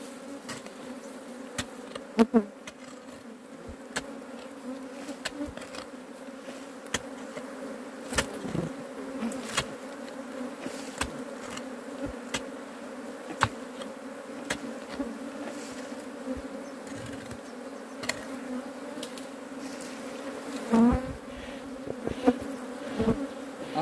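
Honey bees from a swarm in a wooden stump near a house give a steady, close buzzing hum for over twenty seconds. Louder passes come now and then as single bees fly near.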